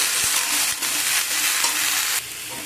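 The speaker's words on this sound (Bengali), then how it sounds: "শাক আর সবজি ভালো করে একসাথে মিশিয়ে নেব নাড়াচাড়া করে" Spinach and mixed vegetables are stirred together in a hot pan, a loud bright sizzle running throughout with several scraping sweeps of the spatula against the pan, close up and without speech.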